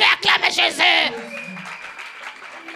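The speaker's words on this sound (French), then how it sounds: "Acclamer Jésus" Applause from a church congregation praising Jesus, loud and close for about a second, then dropping to a lower sustained murmur of clapping and crowd noise, mixed with voices.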